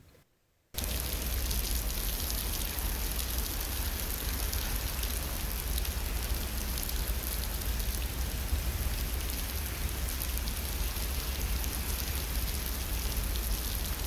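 Steady rain pours down after a brief quiet start, a dense, even hiss that continues loudly and without pause with no one speaking.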